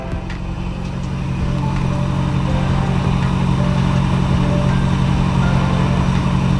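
A car engine idles steadily while running very rich, a continuous low throbbing hum that builds slightly in the first second and then holds a constant level with no voices.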